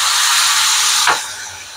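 Mushrooms go into hot oil with lightly fried chopped garlic, giving a steady broadband sizzle that flares briefly as they land, then eases to a quieter, even hiss.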